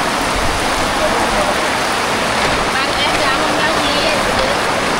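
Steady, dense rush of water runs throughout, like rainwater pouring and flowing nearby, with a continuous broadband hiss and no clear pauses.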